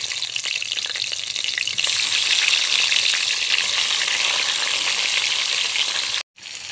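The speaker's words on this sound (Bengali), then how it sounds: "মাছগুলো একইভাবে ভেজে নেব" Silver carp fish pieces sizzle in mustard oil in a wok, a dense, steady crackle that grows a little louder partway through, then drops out in a short break near the end, with no talk.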